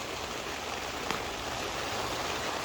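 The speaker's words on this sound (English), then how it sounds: "you can hear that rain started up again" Steady rain falling over a cactus and euphorbia garden, a continuous broadband hiss of drops on surfaces, fairly close and even throughout, with no voices.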